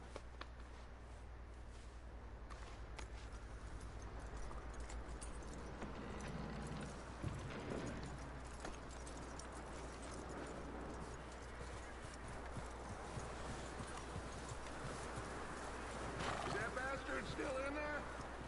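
Horse hooves clip-clopping in the video game Red Dead Redemption, a steady faint trot running through the whole stretch under game speech and a brief whinny.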